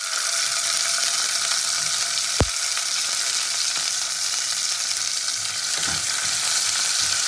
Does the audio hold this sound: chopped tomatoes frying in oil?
yes